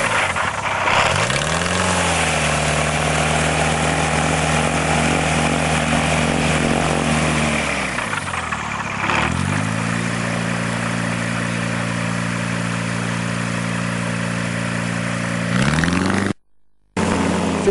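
A light propeller aircraft, the Eagle / KC-612, on a test flight in India, its engine droning loud and close, revving up and down in pitch several times, with the sound dropping out near the end.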